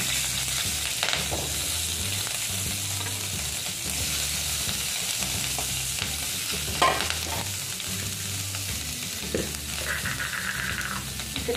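Capsicum fries in a little oil in a pan for mixed veg, a continuous close sizzle with occasional soft stirring scrapes and small clinks throughout.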